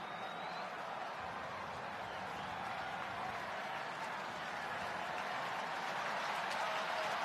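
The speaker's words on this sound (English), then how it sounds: "Crowd trying to get him over the finish line." A baseball stadium crowd at a Dodgers vs Phillies game keeps up a steady, dense roar of cheering and applause, broad and even throughout with no single voice standing out.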